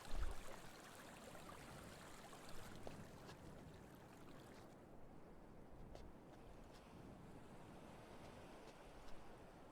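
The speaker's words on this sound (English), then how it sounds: "we got water flowing in both places" Steady broadband wash of flowing water in the Myst 4 game world, continuous and moderately quiet, with a few faint clicks over the even rushing.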